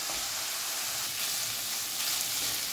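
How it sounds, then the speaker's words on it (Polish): Pork loin sizzles steadily in a hot pan, a constant crackling hiss throughout, close and fairly loud with no talking. "żeby się mięso zaczęło smażyć, a nie dusić"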